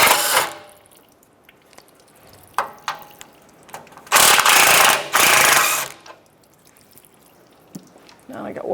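Socket ratchet loosening 12mm bolts on the underbody shield of a Toyota 4Runner, with scattered clicks and two long loud ratcheting bursts in the middle, close and clear.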